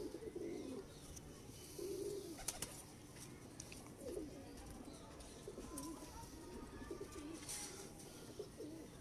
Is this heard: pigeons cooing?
yes